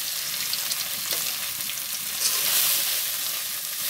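Radish greens frying and being stirred in a pan with browned onion, garlic and green chilli, giving a steady close sizzle with occasional scraping stir sounds and no talk.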